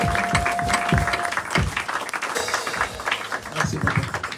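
A church congregation at a Sunday service claps and cheers for the evangelist, dense close applause with shouts and crowd voices throughout.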